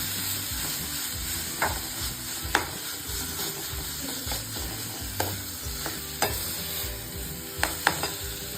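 Ground dates and dry fruits are stirred together in a pan over a constant frying sizzle, with occasional sharp clinks of the spoon against the pan, close by and without talk.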